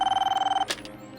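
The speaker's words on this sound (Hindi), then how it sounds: "ये राजू फोन क्यों नहीं उठा रहा है?" A telephone rings with a rapid trilling bell in a short, fast-pulsing burst, then stops abruptly and a brief clatter follows.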